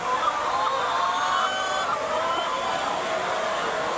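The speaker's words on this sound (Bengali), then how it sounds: "এই দেখেন কত মুরগি এই জায়গায়" A flock of chickens clucks and chatters continuously nearby, with a high crowing-like call briefly rising above the steady noise.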